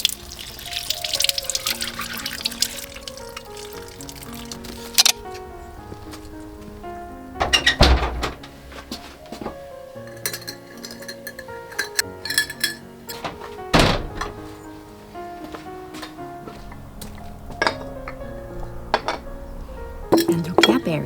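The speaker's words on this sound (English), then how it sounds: "Wash everything really well." Foraged forest plants are rinsed in water, with intermittent splashing, tap flow and the clinks and thunks of dishes and utensils knocking together nearby, in irregular bursts with pauses between them.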